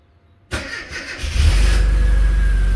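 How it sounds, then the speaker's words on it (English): A Mini Cooper 1.3i SPI with about 99,500 miles, unused for two months, cranks briefly and catches, then settles into a steady, loud idle close to the rear of the car without any revving. "So I'm going to hold the camera towards the rear and we'll turn the engine over."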